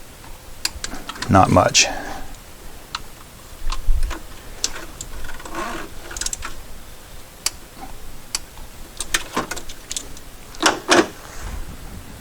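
A torque wrench tightens a hose clamp on a 1993 VW Cabriolet during a coolant leak repair, giving small clicks and ratcheting ticks among metallic handling noises, with a voice speaking briefly.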